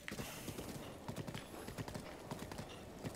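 Hooves from a galloping horse in the video game Breath of the Wild drum in a rapid, steady clip-clop, moderately close over a dense background of game sound.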